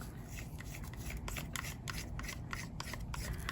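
Mica powder is rubbed up the sides of a small jar, making soft, close, repeated scratchy rubbing strokes at an uneven rhythm, faint and with no talk.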